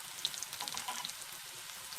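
Oil sizzles and crackles steadily as boiled potatoes fry, a soft, close hiss dotted with small pops.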